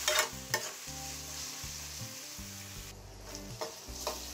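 Ginger-garlic paste, extra garlic and spices frying for mutton paya, a steady close sizzle with repeated scraping stir strokes and faint tonal background hum.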